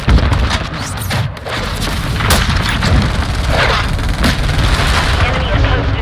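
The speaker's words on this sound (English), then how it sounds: "Mortar strike inbound." Mortar strike explosions in the video game Call of Duty Modern Warfare, a dense, loud barrage of booming blasts and gunfire rumbling continuously, mixed with game radio chatter.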